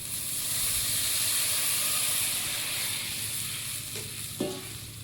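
Strained mustard paste added to hot oil in a pan, giving a steady loud sizzle and hiss with a brief scrape of stirring near the end.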